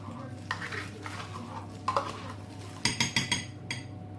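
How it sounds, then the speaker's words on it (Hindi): Yogurt is stirred into a chutney in a bowl, with soft mixing swishes followed by a quick run of loud spoon clinks against the side, close by and without talk. "इस चटनी में हम दही मिक्स कर लेते हैं।"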